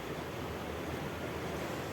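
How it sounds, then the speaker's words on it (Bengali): Strong wind gusting outdoors on a hot day as weather turns, a steady loud broadband roar buffeting the microphone without a break, no voices. "এত জোরে হাওয়া দিচ্ছে"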